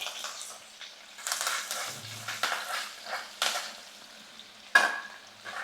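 Finely chopped garlic and green chili frying in oil for onion rice, with scraping stirs of a spatula in the pan over a soft sizzle, strokes coming in irregular bursts and one sharp clack near the end.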